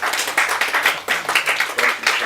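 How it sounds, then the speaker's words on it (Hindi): A crowd keeps clapping at an Ambedkar Jayanti gathering held by Dalit Times, a short burst of quick, regular claps that stays steady and close throughout. "तालियां बजते रहनी चाहिए प्लीज"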